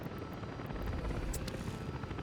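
A helicopter in the city-building game Workers & Resources: Soviet Republic gives a steady, continuous rotor drone that holds at even loudness throughout, heard alone without talk.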